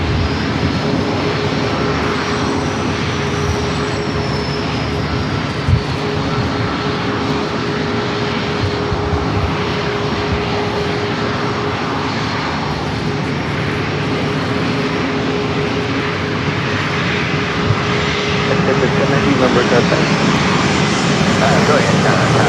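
A Bombardier Global 5000 business jet roars loud and steady at San Diego airport, its engine drone filling the whole stretch with a faint whine on top, while a voice speaks faintly beneath it.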